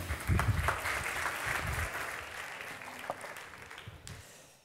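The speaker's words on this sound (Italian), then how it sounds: "Applauso." A burst of applause from an audience at a FameLab science communication contest in Trieste that starts loud and gradually tapers off, with a few scattered claps trailing at the end.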